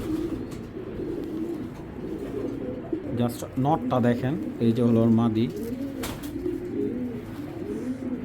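A pair of Belgian racing pigeons coos in low, throaty bursts close by, with someone talking over the middle stretch and steady soft calls continuing before and after.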